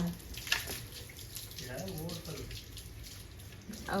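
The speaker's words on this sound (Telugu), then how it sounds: "ట్యాంక్ నిండి పోతున్నాయి నీళ్ళు" Water overflows from a full water tank, running and splashing steadily from above, pouring continuously while a voice talks intermittently nearby.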